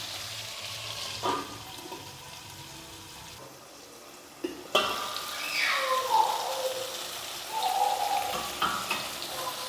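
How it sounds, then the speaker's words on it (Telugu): Tomato pieces cooking in a pan for tomato rice give off a steady, soft sizzle and hiss, briefly quieter midway, then louder with a few stirring scrapes and bubbling bursts near the end. "ఒక 3 నిమిషాలు మనం ఈ టమాటా ముక్కల్ని మనం మగ్గించుకుందాం."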